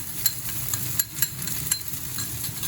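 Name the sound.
stir frying chicken and onions in oil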